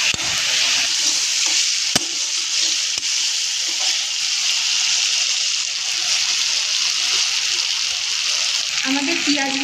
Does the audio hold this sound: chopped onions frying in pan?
yes